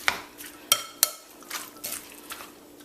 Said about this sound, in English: we really got to stir this up now